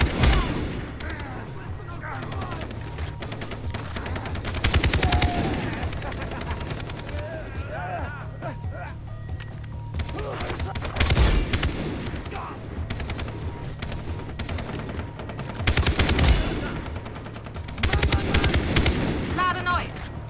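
Gunfire in the co-op shooter game Far Cry 3: repeated bursts of automatic and single shots in clusters over a steady background, with players talking between and over the shooting.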